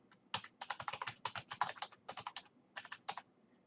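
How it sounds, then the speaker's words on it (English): Quick, crisp keystrokes on a computer keyboard as a keyword is entered in an online job search, tapped in rapid bursts with a short pause midway, close and fairly quiet. "You can also type in a keyword search."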